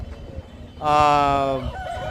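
A rooster crows once at a poultry market in Gudur, Nellore district, Andhra Pradesh, a loud drawn-out call rising over a noisy background of people and other birds.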